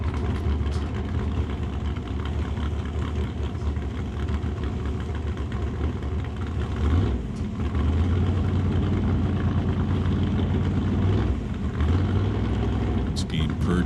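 A 1981 Chevrolet Malibu drag car sits on the start line at a drag race, its engine rumbling loud and steady with a deep low drone, while an announcer talks over it.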